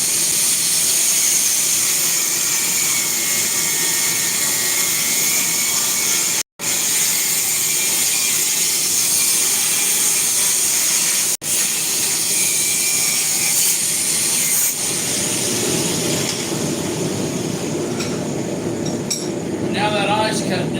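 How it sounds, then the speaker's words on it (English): An angle grinder cuts down the eye of a steel claw hammer head clamped in a vise, giving a loud, harsh, continuous grinding roar that barely breaks for about twenty seconds. "I'll grab my angle grinder."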